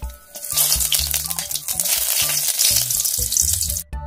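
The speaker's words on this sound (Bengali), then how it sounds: "লঙ্কা রসুন ভাজা হয়ে গেছে" Green chili and garlic frying in mustard oil, a close, loud crackling sizzle over repeated rhythmic low knocks and scrapes of stirring, then a sudden drop near the end, with no talking.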